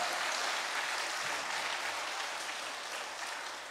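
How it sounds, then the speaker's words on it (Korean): Congregation applauding during a Sunday church worship service, dense steady clapping filling the space for a few seconds and slowly fading toward the end. "박수하고 싶으시면 하셔도 됩니다."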